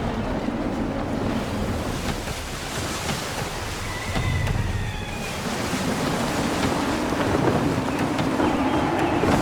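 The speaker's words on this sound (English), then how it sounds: "Gusty winds can be difficult to manage." Gusty wind at sea in Assassin's Creed III rushes steadily over surf and waves against a sailing ship's hull, a broad continuous roar with a faint creak midway and no talk.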